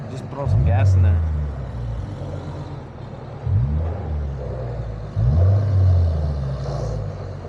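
Toyota GR86 exhaust heard from inside the cabin, swelling in three loud low rumbling bursts as the throttle is pressed, each easing back to a steady drone, with voices talking over it.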